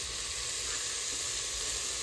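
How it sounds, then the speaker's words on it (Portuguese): Chopped onion and small pieces of meat sauté in a pan with a constant, close sizzle and crackle, steady throughout without any talk. "Acabei de picar uma cebola, coloquei ela aqui pra refogar e vou acrescentar os pedacinhos de carne"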